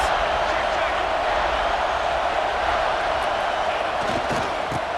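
A stadium crowd in EA Sports College Football 26 roars in a steady, broad wash during a big third down in the red zone, with a commentator's voice over it.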